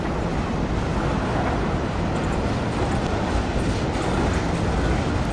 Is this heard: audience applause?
no